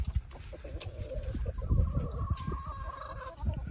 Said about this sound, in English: He's a good looking rooster right there.